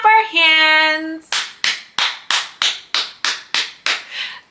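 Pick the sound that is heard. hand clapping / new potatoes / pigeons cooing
hand clapping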